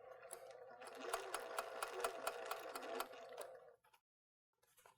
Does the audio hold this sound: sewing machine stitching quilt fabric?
yes